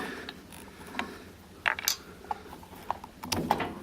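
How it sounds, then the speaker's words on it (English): An Aerochute fuel filter being pried and slid off its connection, a few sharp, close clicks and scrapes of plastic parts against quiet background. "I might just need to gently pry around the edge to loosen it up, sliding it off"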